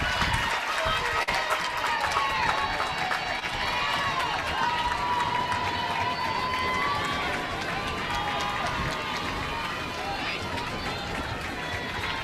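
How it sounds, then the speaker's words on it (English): Crowd stomping feet in the stands at an NCAA softball tournament game between Michigan and James Madison, a steady, dense rumble with cheering mixed in and a commentator talking over it throughout. "A lot of stomping feet here."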